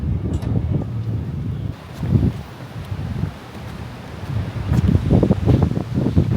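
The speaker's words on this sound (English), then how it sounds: "Super windy out here." Strong wind buffets the microphone in loud, uneven gusts, rising and falling throughout with deep rumbling bursts.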